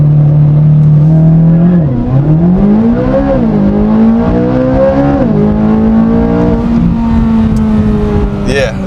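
A 2026 Chevrolet Corvette Z06 3LZ launches under launch control at full throttle, its engine roaring loud and close as the pitch climbs through several upshifts over about nine seconds, with no talk over it.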